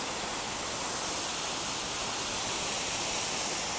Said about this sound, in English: Not a humongous waterfall, but pretty awesome.